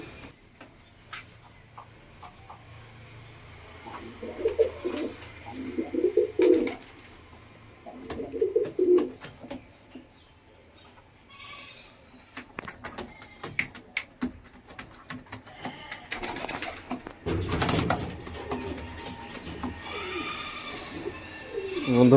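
Giribaz pigeons cooing in soft, repeated bursts, close by, with rustling, handling noises and other bird sounds around them.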